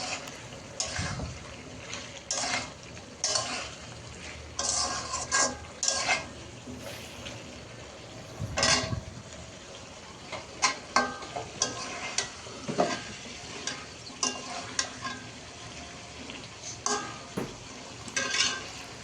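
Mashed fenugreek greens being stirred in a frying pan, with repeated scraping strokes of a spatula over a steady soft sizzle, close and moderately loud, no talking.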